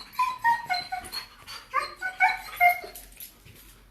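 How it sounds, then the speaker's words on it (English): An abandoned dog in the Everglades, Florida whimpers and yips in a series of high, quavering whines, close and fairly clear, with a few brief pauses between cries. "100 plus abandoned dogs of Everglades, Florida"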